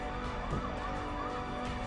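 Ambulance siren at the Prayagraj fair crowd, a faint, steady wailing tone heard briefly at a distance amid broad background noise.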